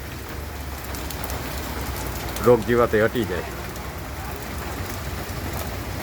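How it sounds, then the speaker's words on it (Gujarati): Steady rain patters and hisses on surfaces nearby at a farm throughout, while a person briefly speaks over it midway. "જો અમારા વરસાદ ચાલુ જ છે"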